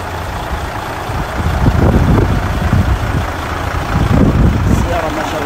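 A 2005 Mercedes Actros 6x6 truck with a 3344 tractor head, on Kuwaiti plates, idles with a steady low diesel rumble that swells and eases slightly over a few seconds under constant outdoor background noise.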